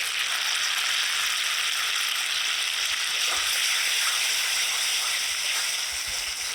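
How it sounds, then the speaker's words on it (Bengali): Spice paste of turmeric, coriander and chili powder sautéing in a pan for a chicken feet, neck and gizzard dish, a steady loud sizzle that holds throughout with no talking. "এবার স্বাদ অনুযায়ী লবণ দিয়ে মশলাটা ভালোভাবে কষিয়ে নেব"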